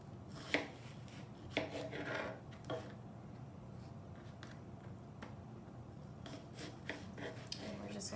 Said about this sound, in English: I'm just going to kind of slice off the very top and the very, very bottom